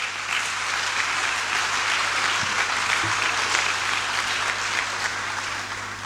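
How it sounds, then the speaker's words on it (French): An audience at a church celebration of the Solemnity of Saints Peter and Paul applauds Madame Koulibaly, a steady, dense wash of clapping that fills the room from start to finish and holds loud throughout. "Madame Koulibaly, que je voudrais que vous acclamiez encore très fort"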